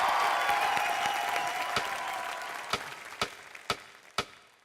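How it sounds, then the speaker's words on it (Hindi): Studio audience applause on a Hindi television comedy show, a dense wash of clapping that gradually fades, leaving a handful of separate sharp claps near the end. "चलिए एक बार जोरदार तालियां हो जाएं इनके लिए"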